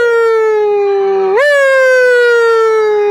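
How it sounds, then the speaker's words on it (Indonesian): A loud ambulance siren holds a steady tonal wail, then sweeps sharply upward in pitch and slowly glides back down. "ambulans."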